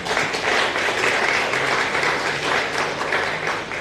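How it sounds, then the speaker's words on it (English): A room full of people applauds at a media launch for a Cadence Lypso music anniversary celebration, continuous clapping with a faint murmur of voices underneath. "he deserves an outstanding round of applause"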